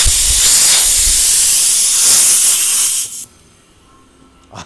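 Air hisses loudly and steadily out of a tire on a 20-inch double bead lock LMTV rim with no valve stem fitted, then stops abruptly, leaving near quiet.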